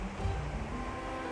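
A waterfall in the Yorkshire Dales after a storm, heard as a steady, dense rush of falling water that stays loud and unbroken throughout, with no voices.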